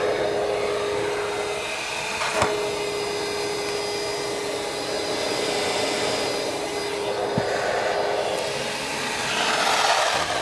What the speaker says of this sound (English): we're going to give that a little bit of a vacuum now to see how that goes